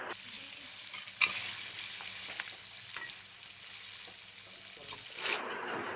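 Carrots and beans with chopped ginger fry in hot white oil in a wok, a loud, continuous close sizzle broken by sharp clatters as the vegetables are stirred.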